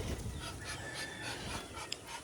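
A dog pants in quick, soft breaths nearby, with light background noise.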